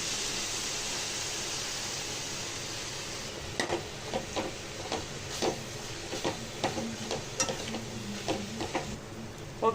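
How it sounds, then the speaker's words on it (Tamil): Chiru keerai (amaranth greens) sautéing in a pan, a soft continuous sizzle with a run of close, regular stirring scrapes and clinks in the second half. "இப்போ கீரை கொஞ்சம் நேரம் வதங்கட்டும்."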